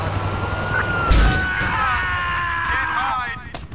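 A police car siren in a GTA IV video game wails under a busy mix of engine noise and a crash, with a voice briefly audible amid the clatter.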